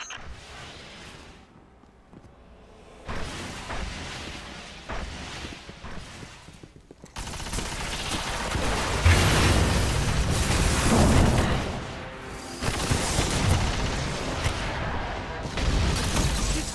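Gunfire in Destiny aimed at SIVA nodes in a dark underground area: quiet ambience gives way to heavy sustained bursts of shots and booming impacts that grow louder and keep going.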